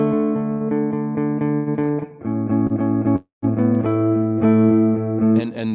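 Electric guitar on the neck pickup with a warm tone and light distortion, playing sustained chords and notes with a brief gap midway, close and clear.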